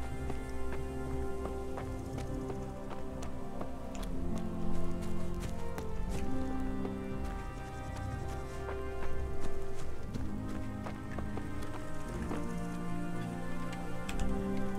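Horse hooves clip-clop at a steady walking pace in the video game Kingdom Come: Deliverance, blended with soft background music and ambience.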